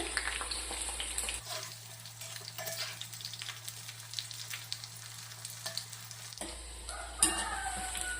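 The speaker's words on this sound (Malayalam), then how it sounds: "ഇളക്കി കൊടുത്ത് ഇളക്കി കൊടുത്ത് വറുത്ത് എടുക്കണേ" Chicken pakoda fries in hot oil with a steady crackling sizzle, while a spoon or ladle stirs the pieces with scraping and clicking strokes; the frying sounds close and continuous throughout.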